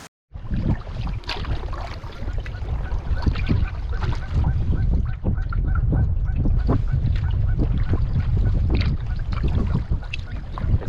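Sandhill cranes and geese call repeatedly from along a river, honking and trumpeting calls overlapping in a busy, continuous outdoor chorus at moderate distance.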